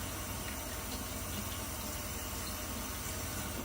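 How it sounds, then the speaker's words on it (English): Water trickles into a bowl of Arko shaving soap lather, a steady soft splashing stream running throughout at low level with no talk. "Why don't we just add a little bit more water."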